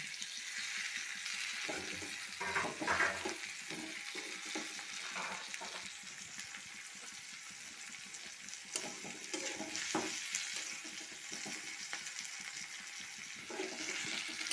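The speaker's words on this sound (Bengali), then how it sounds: "পেঁয়াজগুলো আমার একটু ভাজা ভাজা হয়ে গিয়েছে। এখন আমি এই যে একটা টমেটো নিয়েছি, টমেটোটাও দিয়ে দিচ্ছি।" Chopped tomato goes into onions already frying in a pan for a fish roe bhorta, with a continuous soft sizzle and occasional stirring scrapes, fairly quiet and without talk.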